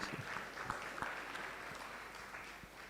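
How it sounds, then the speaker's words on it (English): Applause from a temple gathering at an ISKCON festival celebration, soft scattered clapping that runs steadily for a few seconds, fairly faint and distant. "you can give yourself a round of applause"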